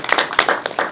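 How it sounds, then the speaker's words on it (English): A few scattered claps from an audience at a veteran civic-solutions talk, brief uneven bursts of hand clapping lasting about a second, fairly close. "That's an applause."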